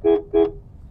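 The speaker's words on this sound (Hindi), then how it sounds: "हॉर्न प्रेस करिए" Two short, loud honks of a car horn in quick succession, close by during a driving lesson, followed by low engine rumble.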